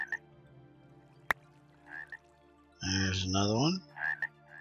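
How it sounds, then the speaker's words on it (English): Nighttime ambient frog croaking in the TerraFirmaCraft video game, a few short croaks scattered over a quiet background with one longer, louder croaking burst in the middle; someone speaks briefly. "There are no actual frogs. It's just nighttime ambient sound."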